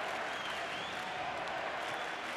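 Spectators applaud and roar in a velodrome during a men's Olympic keirin race at the 2004 Athens Games, a dense continuous wash of crowd noise heard from a distance.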